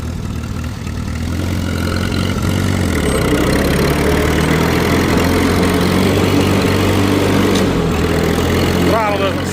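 A small engine runs steadily and close by with a rough, labouring drone, sounding short on power with a throttle that won't hold, and someone speaks briefly over it.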